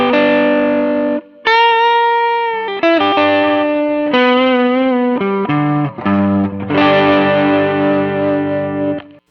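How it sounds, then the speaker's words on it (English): An electric guitar played through a light-breakup overdrive patch on a Mooer GE 200 multi-effects unit rings out with loud sustained chords and single notes, slightly gritty and full, with no talking. "our second custom patch is DBG Overdrive,"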